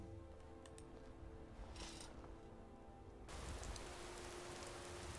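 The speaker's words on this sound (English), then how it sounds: "Oh, it would have to rain." Rain falls in Skyrim, a soft steady hiss of drops that swells louder partway through, with faint ticking under it and no voices.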